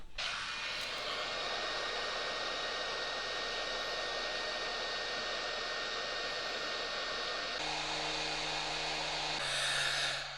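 A heat gun blows with a loud, steady whooshing roar, close up, shrinking heat-shrink tubing over a wire during a chassis repair. Its pitch shifts near the end, and no one talks.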